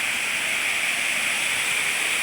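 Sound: waterfall

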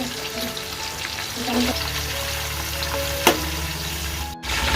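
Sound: onion and garlic tempering frying in oil

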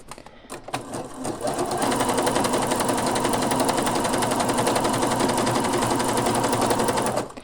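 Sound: household sewing machine stitching flower decor on jersey knit

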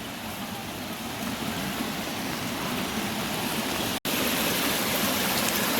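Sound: flowing stream in Konkan

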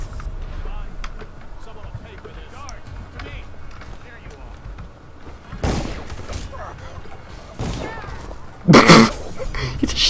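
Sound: gunshot in a video game

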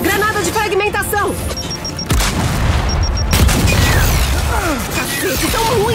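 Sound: frag grenade explosion in the video game Gears 5

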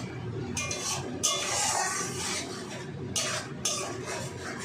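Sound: stirring onions and tomatoes in a pan

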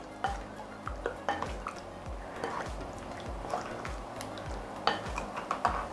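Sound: mixing a marinade of salt and oil with spices

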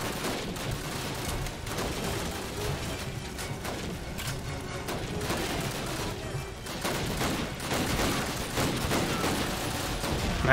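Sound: rapid rifle gunfire in video game Call of Duty: United Offensive

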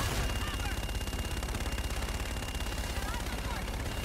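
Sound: gun run gunfire from the video game Call of Duty Infinite Warfare

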